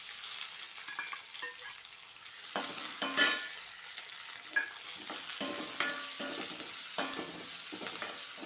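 Sliced onion with crushed ginger and garlic frying in a pan for chicken curry, a steady close sizzle with repeated scraping stirs and clinks of a spoon against the pan.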